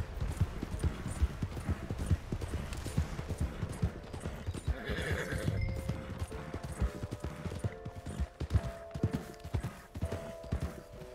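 A horse ridden across open country in the video game Red Dead Redemption II gallops with rapid, steady hoofbeats, a whinny rising midway, and faint tonal game ambience layered underneath.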